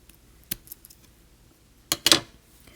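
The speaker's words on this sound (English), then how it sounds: "I'm going to go ahead and take my scissors and cut this off." A couple of sharp metallic snips from scissors cutting beading thread, close and quiet, with small clicks between them in an otherwise still room.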